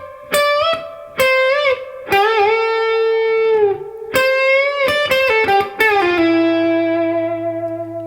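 Electric guitar playing a phrase from a second solo, with pull-offs and a half-step slide: a run of bright, sustained notes with bends, ending on a long ringing note, with no talking.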